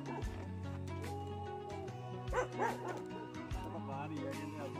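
A dog barks and yips a few times at a middle distance in a village setting, over a steady low hum and some background voices.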